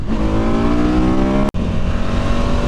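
A car sweeps past on a winding country road in Germany's Black Forest, its engine rising and falling with a steady pitch glide, then a brief sharp rush as it passes close by, fairly loud, with no voices.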